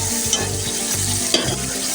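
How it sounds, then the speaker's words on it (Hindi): Pulao masala roasts in a pan for beef yakhni pulao, a dense, close frying hiss with quick stirring scrapes and a couple of sharp utensil knocks, loud and continuous with no talking. "मैंने भूनने के लिए रख दिया और ये भून के तैयार हो रहा है"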